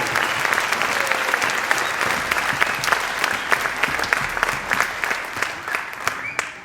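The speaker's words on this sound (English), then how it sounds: "So how about a big round of applause?" Audience applause at a junior high school band concert, a full room clapping loudly and continuously with sharp individual claps standing out, tapering slightly toward the end, no talking over it.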